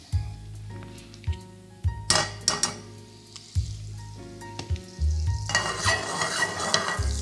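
Butter melting and sizzling in a pan with olive and sunflower oil, a steady fry under repeated close clinks and scrapes of a utensil stirring against the pan, with a louder burst of sizzle near the end.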